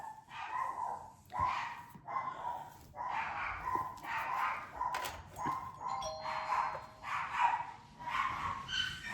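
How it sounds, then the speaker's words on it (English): Dogs bark repeatedly at a moderate distance in short, uneven bursts of sharp yips and barks, with a few clicks and thuds between them. "Dogs are barking at me."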